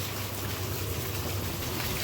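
Rain pours steadily over a village during a multi-day downpour, a dense, even hiss of drops on surfaces filling the whole moment at constant loudness, with no one speaking.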